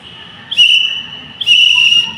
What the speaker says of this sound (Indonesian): untuk penggunaan sandi Morse yaitu menggunakan peluit. Contohnya seperti huruf A